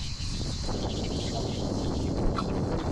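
Strong wind blowing outdoors on a roadside bridge in Vietnam, a loud continuous rushing roar buffeting the microphone throughout, with little else audible.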